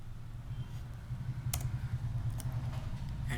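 A few sparse mouse clicks and light keyboard taps at a computer while editing a GitLab pipeline, soft and close over a steady low hum.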